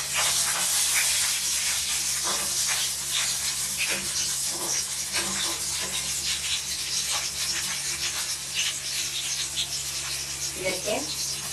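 Chopped garlic, ginger and green chilli frying in hot oil for a fish curry, giving a steady loud hiss and crackle with scattered pops and light clinks throughout.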